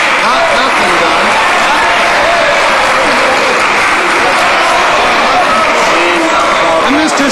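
Sustained, loud applause from members of the House of Commons of Canada during Question Period, steady and dense throughout like a large crowd clapping and murmuring together.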